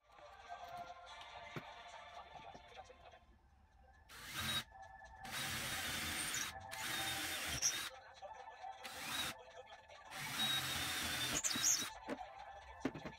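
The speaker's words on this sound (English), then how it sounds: "I needed to drill holes 90 degrees to each other." A power drill bores holes into lengths of timber for a homemade beam trolley. It comes as about five separate whining bursts of varying length in the second half, after a quieter stretch with faint birdsong in the background.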